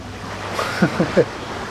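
Ocean waves and gusting wind surround a sailboat running downwind across the Pacific in winds above 20 knots: a steady, faint rush with a few brief splashes or voice-like bursts in the middle.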